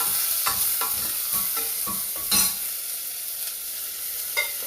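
Tomatoes and curry leaves sauté in oil in a pot for one-pot sambar rice, a steady close sizzle with scraping stirs and occasional spatula knocks against the pan.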